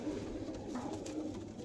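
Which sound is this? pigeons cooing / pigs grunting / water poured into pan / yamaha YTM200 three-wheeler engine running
pigeons cooing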